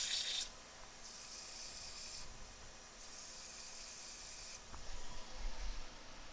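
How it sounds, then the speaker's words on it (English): Light hand sanding strokes rasp across a surface inlaid with metal powders and decorative sands in a few long, even passes separated by short pauses, close and soft. "Give it a very light sanding."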